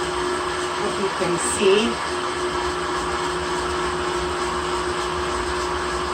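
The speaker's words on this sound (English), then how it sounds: "And I used my whisk attachment because that will make it nice and fluffy" An electric mixer with a whisk attachment whips meringue in a steady, continuous whir that runs throughout the clip, and a voice briefly speaks over it.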